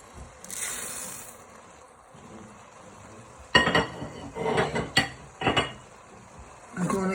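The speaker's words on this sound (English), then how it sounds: "Next step is to add your risotto rice." Risotto rice pours into a hot pan with oil, giving a short sizzling rush followed by a few rattling, stirring bursts. It sounds close, and a faint background hum runs underneath.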